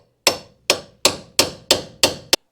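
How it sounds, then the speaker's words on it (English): Six sharp metallic hammer blows strike a small chisel wedged between a nut and bolt on a Ford Fiesta Mk7 anti-roll bar drop link, evenly spaced and close, each ringing briefly before the next. "I am going to get a small chisel, put it between there and try and separate the nut away from the bolt"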